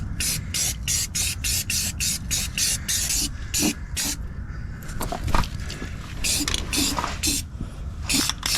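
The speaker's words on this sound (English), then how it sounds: "I'm going to use the Eastwood stuff to also coat the inside of this, rough it up a little bit, and spray that on" Eastwood rust sealing paint is sprayed onto a Jeep TJ frame in repeated short, loud hissing bursts with brief gaps between them and some scattered handling noises.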